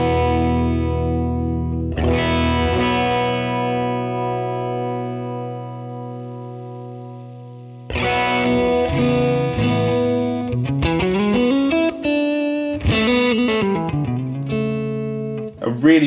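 Electric guitar through a Klon-style overdrive on a Fractal modeler, with a gritty overdriven tone, plays sustained chords, then a string of bending, sliding notes, loud and close with no talking.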